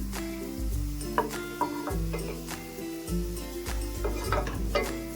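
Chopped onions fry in hot oil for fish biryani, giving a steady close sizzle broken by the clatter of a spoon stirring against the pan.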